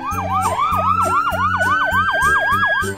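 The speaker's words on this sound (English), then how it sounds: "Look, there comes an ambulance." Ambulance siren on an emergency vehicle, loud and continuous, with a rapid wailing yelp that repeats about every quarter second under a steady rhythmic horn-like pattern throughout.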